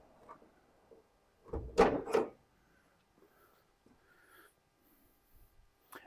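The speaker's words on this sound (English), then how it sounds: "So I'm hopefully going to be able to open this door" A wooden door on snug, freshly adjusted hinges swings open in one burst of creaking and rubbing, loud and close, followed by faint scattered handling noises.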